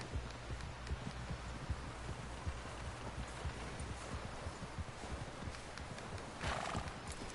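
Horse in the Red Dead Redemption 2 game, with steady clip-clop hoofbeats at a walk and a neigh near the end, over faint rustling and wind; no talk.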